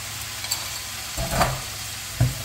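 Sauce poured into a hot pan of stir-fried anchovies (myeolchi bokkeum) gives a brief sizzle near the middle, with a sharper hiss and clatter toward the end over a steady low frying background.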